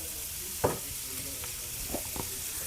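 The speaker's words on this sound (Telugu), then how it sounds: "ఈ ఉల్లిపాయలు పచ్చిమిరకాయలు ఆయిల్లో మగ్గిపోవాలి" Onions and green chillies softening in oil, a faint, steady sizzle with a few isolated knocks and scrapes of a spoon against the pan.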